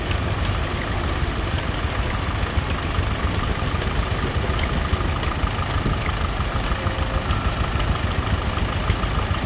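A restored Super WD9 tractor engine idles steadily nearby, a continuous mid-low rumble with faint knocking texture and no voices.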